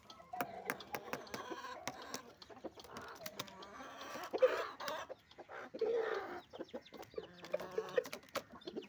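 Chickens cluck repeatedly in short, uneven bursts, close and moderately loud over a soft background hum, with occasional louder squawks near the middle.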